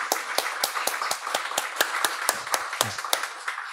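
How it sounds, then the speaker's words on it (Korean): A church congregation claps together in praise after a confirmation ceremony, sharp steady hand claps in a fairly quick rhythm filling the room, with no talk over them. "하나님께 영광의 박수를 올려드리겠습니다"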